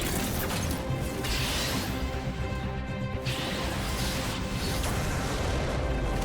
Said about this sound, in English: He just barely scraped away from that explosion.